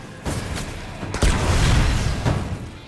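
Firefly perk blast from Destiny, a solar explosion sounding as a few booming bursts, one near 0.3 s and a heavier one near 1.2 s, then a sustained rumbling roar with another thud near the end.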